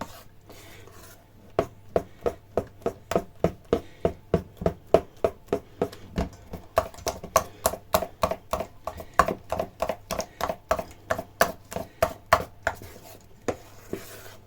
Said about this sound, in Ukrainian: Перемішую добре.